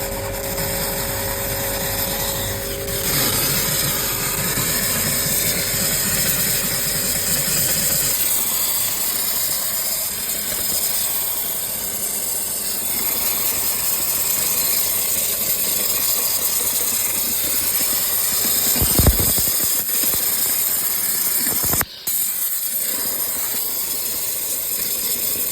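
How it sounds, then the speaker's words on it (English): A steam cleaner sprays steam with a loud, continuous hiss close by, used on an R290 freezer's condenser area, running steadily for most of the stretch with a brief break near the end. "We've got the steam cleaner."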